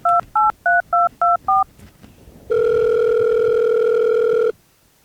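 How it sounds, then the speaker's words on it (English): A telephone keypad sends six quick touch-tone beeps in an even rhythm, then a single loud, steady electronic tone holds for about two seconds before cutting off, with no voices. "You better pick up that phone."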